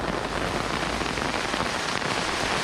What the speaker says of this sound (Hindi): बारिश देख ही लो कितनी ज़्यादा हो रही है